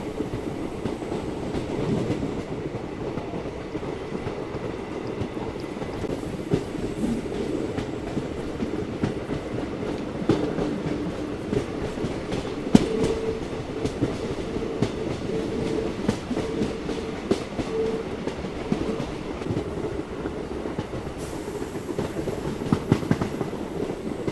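Rani Chennamma Express rolls through dense forest on the way to Dandeli, a steady rumble of carriages with rhythmic wheel clicks and rattles heard from inside the moving train, with no talking.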